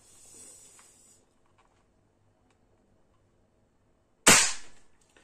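A single sharp gunshot fired through a chronograph, loud and close, with a brief decaying tail after a stretch of near silence and faint handling noise.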